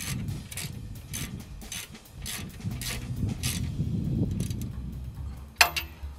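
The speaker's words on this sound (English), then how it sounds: "we want to get our ratchet with an 18mm socket and just cinch it down" A ratchet with an 18mm socket tightens brake bolts on a Jeep JK, giving a close series of regular rapid ticking bursts with short pauses between strokes and a sharper knock near the end, without talking.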